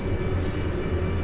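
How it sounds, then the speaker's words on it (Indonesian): A Eurocity passenger train hauled by a Siemens Taurus electric locomotive begins to move, a steady low rumble and rolling hum from inside the carriage, continuous and moderately loud. "Nih keretanya udah mulai ditarik teman-teman."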